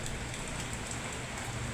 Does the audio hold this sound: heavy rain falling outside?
yes